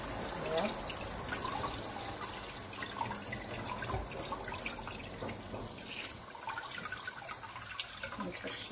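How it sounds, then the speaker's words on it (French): Running tap water splashes and trickles steadily over a fish being rinsed and cleaned out in a sink, close and continuous, with a voice speaking over it at times. "Il faut bien creuser et rincer."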